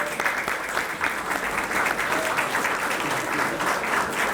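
Steady, dense applause from a large audience at a museum and cultural center grand opening, sustained and even for several seconds with no speech on top.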